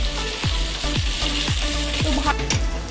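Ginger, green chillies and coriander leaves fry in hot ghee for chole, giving a steady, close sizzle broken by a stirring scrape roughly every half second. No voices.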